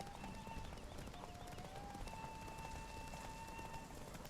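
A horse gallops across the Skellige isles in The Witcher 3, its hooves clip-clopping in a steady running rhythm under game music and ambient tones, with no talk.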